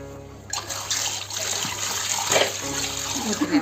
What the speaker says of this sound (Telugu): ఫస్ట్ అయితే వాష్ చేయాలంట.